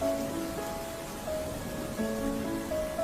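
Steady rain hisses on a surface as an even, continuous wash, with faint tonal hums in the background and no voices.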